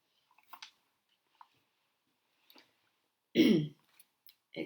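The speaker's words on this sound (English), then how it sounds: "Excuse me for my coughing." A single harsh cough or throat-clear near the microphone, loud and brief, set among faint clicks and small mouth noises in an otherwise quiet room.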